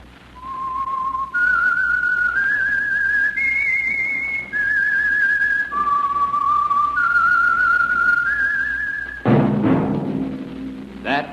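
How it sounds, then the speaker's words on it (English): A lone human whistles the slow melodic theme of the radio drama The Whistler, clear and close, stepping through sustained notes before a sudden burst of music takes over at the end. "That whistle is your signal for the Signal Oil Program"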